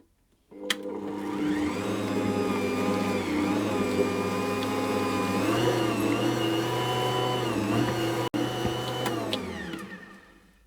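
An Ankarsrum stand mixer kneads panettone dough with raisins and mixed peel, a steady, loud motor hum with slight pitch wobbles running continuously, a sharp click near the end before it winds down.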